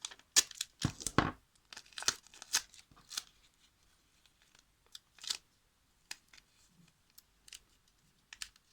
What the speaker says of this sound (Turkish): Şimdi burayı kağıt bandımızla saralım.